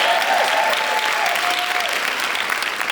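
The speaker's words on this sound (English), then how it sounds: "Let's give a round of applause for that." Sustained applause from a live audience at an evening storytelling event in Springfield, a steady dense wash of clapping filling the room for a few seconds with a faint vocal tone running underneath.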